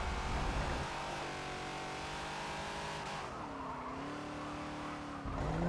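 A Ford Falcon XB in Forza at the Hockenheim circuit holds a loud, even engine drone at full throttle, its pitch sliding and then leveling as it runs on.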